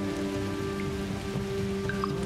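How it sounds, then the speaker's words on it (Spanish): Rain falls steadily in The Universim, a dense, even patter of drops over a low, constant game ambience, with a few faint chimes on top and no talking. "Pero está lloviendo justo al lado."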